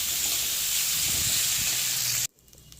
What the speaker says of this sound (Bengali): সেদ্ধ করা আলুগুলোকে পেঁয়াজ টমেটোর সঙ্গে সুন্দর করে ভেজে নিতে হবে।